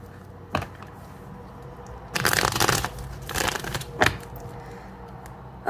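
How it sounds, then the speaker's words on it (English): Tarot cards being shuffled in a few quick riffle bursts separated by short pauses, with crisp slaps and rustles close to the microphone. "Let's do two more shuffles here and get to it."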